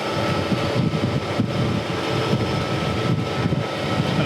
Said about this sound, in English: we're gonna start by just hitting that high spot there, which is where the weld is